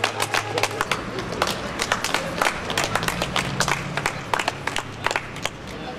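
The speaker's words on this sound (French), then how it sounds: "Merci d'applaudir à l'avance." A theater audience claps through a live comedy stage show, with dense, steady hand claps close by and lasting throughout, a few sharper claps standing out over a low crowd murmur.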